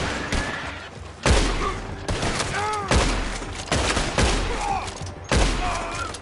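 Gunfire in Red Dead Redemption 2 on PS4 Pro: a rapid series of loud, sharp gunshots with booming low thumps, arriving in bursts across the whole span, close and dense like a fusillade.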